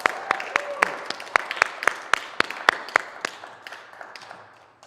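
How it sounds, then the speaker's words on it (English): Audience applause at a music therapy songwriting competition comes from a small crowd, with sharp, distinct individual claps that thin out and fade toward the end. "And one more round of applause."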